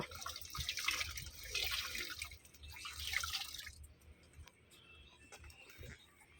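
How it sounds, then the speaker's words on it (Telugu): Faint water drips and trickles onto a car seat in soft splashy bursts, then thins to quiet, scattered drops. "సీట్ మీద అంత నీళ్ళు కారిపోయా చూడు"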